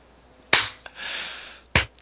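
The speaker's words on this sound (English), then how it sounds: "And you get claps from Ari." Two slow, sharp claps from a character in the video game Rising Angels Reborn, spaced over a second apart with a faint airy hiss between them.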